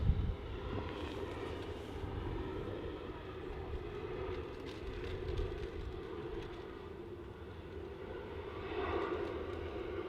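An Airbus A380 at Manchester Airport lands and slows down the runway, its engines a continuous broad roar that swells slightly near the end.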